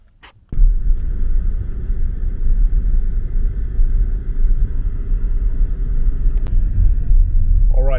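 A car driving along a lonely countryside road near a Balkan border crossing on the way to the west coast, its steady low road rumble and engine drone starting abruptly after a brief quiet moment and holding constant, with no talk.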